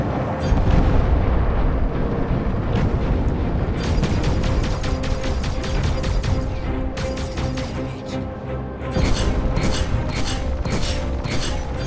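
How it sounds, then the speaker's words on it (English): A missile strikes the player's ship in a space combat video game, with loud continuous rumbling blasts followed by rapid rhythmic bursts of weapon fire and impacts, dense and close, no talk. "Let's see if that missile takes me."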